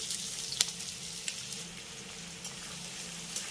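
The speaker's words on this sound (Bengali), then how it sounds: "এবার পেঁয়াজটাকে আমি হালকা করে একটু ভেজে নেবো" Chopped onions and whole cumin seeds fry in hot oil with a constant close sizzle, marked by a sharp click near the start and a few faint stirring taps.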